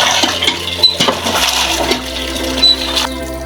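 Water gushing and splashing from a hand-pumped tube well, close and fairly loud, with clanks and knocks of the pump handle scattered through the few seconds.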